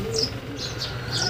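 Pigeons heard up close with a few soft, rhythmic coos and short chirping calls repeating at a steady pace over low background hum.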